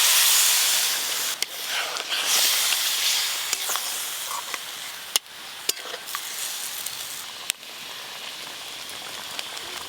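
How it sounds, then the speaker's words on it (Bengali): Water poured into a hot pan of egg curry cooked in spices sets off a loud, steady sizzle and hiss. It fades only slightly over ten seconds, with a few sharp pops and crackles along the way. "এবার পরিমাণ মতো জল দেব।"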